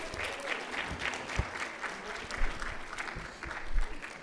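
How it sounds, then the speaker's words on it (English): Applause from an audience at a Doctor of Physical Therapy white coat ceremony, honoring family and friends: continuous moderate clapping with a few sharper claps and thumps, somewhat distant in a large hall. "Let's give a round of applause."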